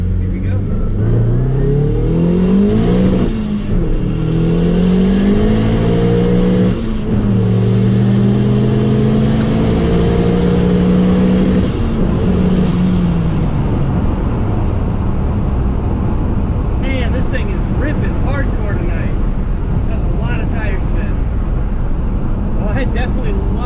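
A car fitted with a GT35 turbo pulls hard at full throttle, its loud engine note climbing steadily through repeated accelerations with a whirring spool on top, then easing off into a rougher, lighter idle near the end.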